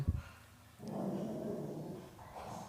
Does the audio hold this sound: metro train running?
no